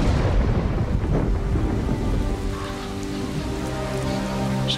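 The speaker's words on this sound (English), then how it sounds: "Starting to rain." Rain beginning to fall with low rumbling thunder, a continuous broadband patter on surfaces with a deep roll underneath, steady throughout.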